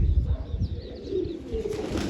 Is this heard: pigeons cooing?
yes